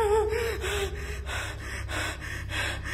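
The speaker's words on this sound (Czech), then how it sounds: "Tohle autora velmi vyděsí, což jde slyšet i z jeho těžkého dýchání." Heavy, frightened breathing from a startled man, a run of loud, rhythmic gasps and snorting inhales close to the microphone over a low steady hum.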